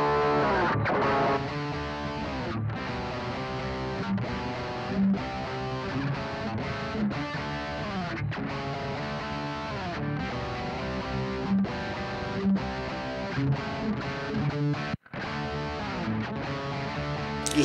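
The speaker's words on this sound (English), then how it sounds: "A lot of distortion, a lot of sound" Heavily distorted electric guitar playing a continuous, loud, buzzing riff with sustained chords, alone without any talking.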